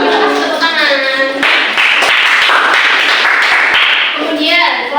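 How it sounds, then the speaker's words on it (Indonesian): Classroom applause from students during a microteaching lesson, with a burst of clapping bunched together for a few seconds, overlapped by chatter and voices in the room throughout. "Tepuk tangan."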